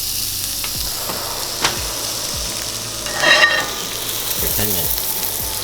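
Food sears in a hot pan with a steady, close sizzle. Brief scraping and stirring noises cut in, and one louder burst of hissing rises partway through. A voice speaks a few words over the frying.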